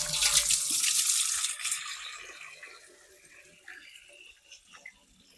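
Very cold water splashes loudly as it is hauled up from an unlined well, then settles into quieter trickles and scattered drips.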